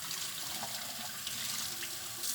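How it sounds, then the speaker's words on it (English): Tap water runs steadily into a sink while a kyusu teapot is rinsed, a continuous close splashing hiss with small shifts in flow and no voices. "you can just clean here and make sure you give a good rinse"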